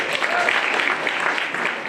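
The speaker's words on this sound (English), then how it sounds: "Let's give them a round of applause, please" An audience at an awards ceremony at the Rand Water Zwartkopjes pumping site gives the choir a round of applause, steady even clapping throughout the short stretch.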